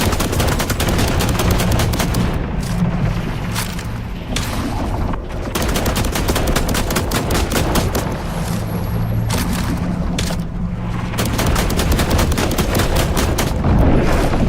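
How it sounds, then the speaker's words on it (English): Rapid bursts of gunfire in a video game aimed at a shark in the depths, dense automatic shots rattling almost continuously and loud throughout, with brief gaps between volleys and no talk. "let's keep on shooting at that shark"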